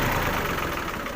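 A tractor engine idles steadily at close range, a continuous low rumble with a slight knocking pulse and no voices over it.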